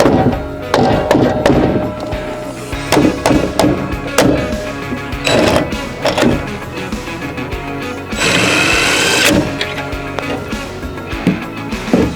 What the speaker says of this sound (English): Might have to bang it a little here